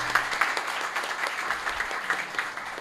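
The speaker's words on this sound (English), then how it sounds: "let's have a round for applause for her" A seminar audience gives a round of applause, a moderate, slightly uneven patter of hands clapping in a hall, fairly sparse and lasting a few seconds.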